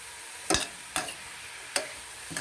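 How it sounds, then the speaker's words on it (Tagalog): Cabbage stir-frying in a dry pan with no water added gives four sharp, close bursts of sizzle and scraping, spaced unevenly over a quiet background with no talking. "Guys, stir fry cabbage, okay? Don't put water."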